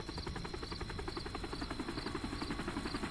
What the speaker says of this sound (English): Lots of choppers coming and going.